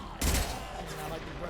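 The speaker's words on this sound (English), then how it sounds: "I like the burst fire." Burst-fire shots from a gun in a video game, a sharp loud volley near the start followed by a lower rattling tail and faint mechanical sounds.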